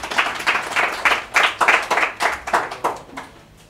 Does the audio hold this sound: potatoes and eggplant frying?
no